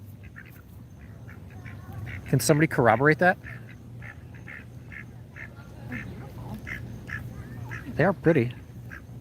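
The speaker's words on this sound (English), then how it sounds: "So these are actually called wood ducks?" Wood ducks quack loudly in two short bursts of rapid calls over steady outdoor background noise, while people talk nearby.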